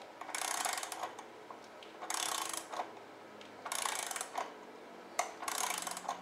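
An adapter tool loosens the rear belt adjuster on a Buell XB motorcycle, giving repeated bursts of close ratcheting clicks, four distinct runs each about a second long separated by short pauses.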